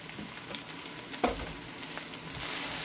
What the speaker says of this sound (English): we're going to mix the rice up with the onions